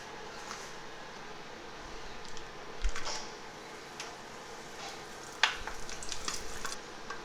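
Chicken with soybean paste frying in a pan, a steady low sizzle with occasional stirring scrapes and a couple of sharper clinks, close and moderately quiet throughout.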